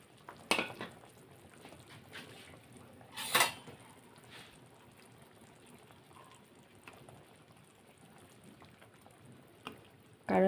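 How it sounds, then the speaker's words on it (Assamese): Pieces of magur and koi fish go into a simmering Assamese fish curry in a pot, quiet bubbling broken by a few metallic clanks and splashes, with a louder knock at the end. "এতিয়া মাছখিনি দি দিওঁ গোটেইখিনি"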